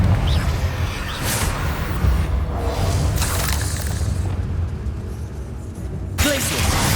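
Confringo blasting spells exploding in Hogwarts Legacy, a series of loud booming bursts with whooshing, shattering tails arriving in quick succession over a dense game soundscape.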